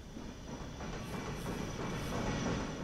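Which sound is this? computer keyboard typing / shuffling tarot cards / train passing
train passing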